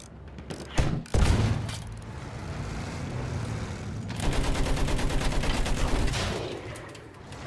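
Gunfire in Battlefield 1 multiplayer during Mark V tank play: rapid machine-gun bursts and heavy shots over rumbling engine and mechanical noise, building into a dense rattling volley toward the end.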